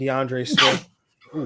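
A single sharp sneeze bursts out right after a voice reads a running-back ranking on a fantasy football podcast, with speech resuming moments later.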